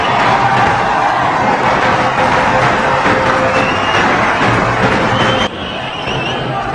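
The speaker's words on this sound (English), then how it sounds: "Listen to the applause." A cricket crowd applauds and cheers after a batsman's dismissal in an India versus Australia one-day match, a sustained distant roar of the stadium that drops slightly toward the end.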